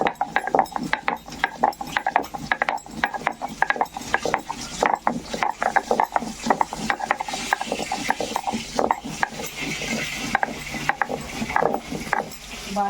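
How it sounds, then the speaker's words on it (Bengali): A kitchen mixer grinder churning a wet spice paste with water for a Bengali boal fish curry, giving off a dense, loud, rattling mechanical whirr with rapid clattering pulses that runs continuously throughout. "বাটার কি আওয়াজ, গড়গড় গড়গড় করে।"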